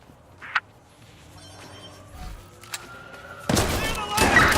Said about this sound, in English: Gunshots. Y'all got incoming.